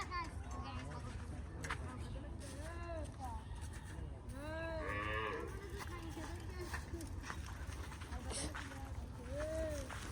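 Goats bleat repeatedly in a farm field, several wavering calls spread through the stretch at moderate distance, with people talking in the background.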